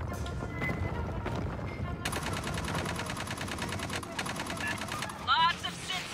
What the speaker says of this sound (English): How's that gunfire in there, Tenpence?